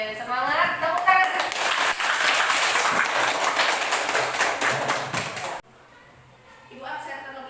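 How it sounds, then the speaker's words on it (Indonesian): A class of students clapping hands together, a dense, loud burst of applause lasting about five seconds before stopping abruptly, with voices and a few faint claps trailing afterward. "Tepuk tangan."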